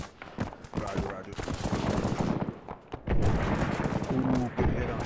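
Rapid bursts of gunfire crackle through an Arma 3 firefight on the Tanoa map, sharp reports stacking into dense volleys, with a voice talking over the shooting.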